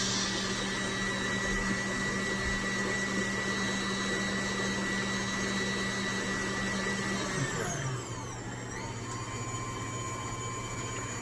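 An electric mixer beats vanilla cake batter in a steady, loud whirring drone that runs without a break, then winds down in pitch near the end as it slows.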